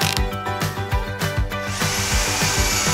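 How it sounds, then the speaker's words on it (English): A power drill spins an ear of corn on the cob, whirring loudly and steadily with a rapid repeating rhythm and slight pitch shifts as it runs. "Put the corn on the drill!"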